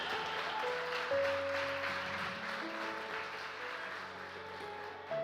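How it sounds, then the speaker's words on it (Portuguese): A church congregation applauds during a service, a steady wash of clapping that lasts throughout, with sustained keyboard or organ chords sounding underneath. "Você pode aplaudir a Ele?"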